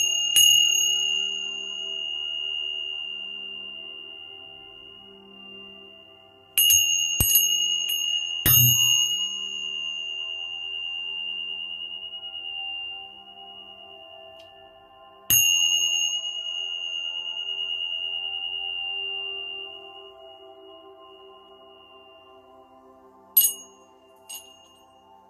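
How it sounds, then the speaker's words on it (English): Healing chimes ring out in a quiet room, a few separate bright strikes spaced several seconds apart, each tone lingering and slowly fading into near silence. "All those chimes are healing."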